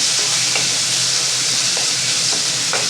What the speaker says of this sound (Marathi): तेलामध्ये मी हिंग घातलेलं आहे आता त्याच्यामध्ये हा एक कांदा आहे तो घातलेला आहे